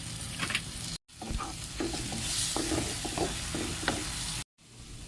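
Turmeric, coriander and cumin powder fry in a pan with tomato paste as they are stirred for a masoor dal vada curry, giving a steady close sizzle with scraping stir strokes and a couple of brief cuts.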